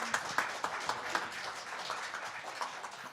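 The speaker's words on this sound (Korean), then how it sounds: "격려의 박수 부탁드리겠습니다" Brief, scattered applause from a seminar audience, a modest round of clapping heard from a slight distance in an indoor hall, with no voices over it.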